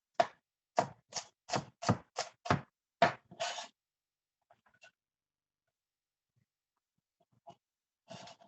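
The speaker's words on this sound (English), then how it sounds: "And I'm chopping them kind of fine here." Knife chopping vegetables finely, about eight sharp, evenly spaced strokes close up, followed by near silence broken by a few faint taps.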